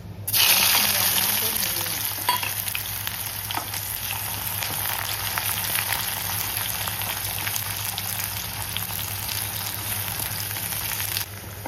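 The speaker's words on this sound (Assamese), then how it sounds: "পিঁয়াজখিনি অকণমান ৰঙা হোৱাকৈ ভাজিছোঁ" Onions fry in hot oil in a pan for a chital fish dish, giving a loud, steady sizzle with a few clinks of a utensil against the pan.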